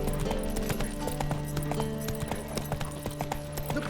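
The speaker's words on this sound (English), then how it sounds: "Run, Roach." Rhythmic clip-clop hoofbeats from a galloping horse in The Witcher 3, running steadily under a constant game soundtrack and ambient hum.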